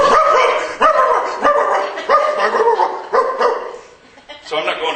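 A comedian on stage imitates two dogs barking, with regular voiced yapping bursts in a steady rhythm, loud and close, ending with a short pause before one more burst.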